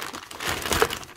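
A plastic packet of butterfly nail foils crinkles close up, a continuous rustling crackle with a brief swell midway.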